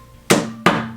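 Two sharp hammer blows land about a third of a second apart, close and loud, during office furniture assembly, each strike ringing briefly before fading.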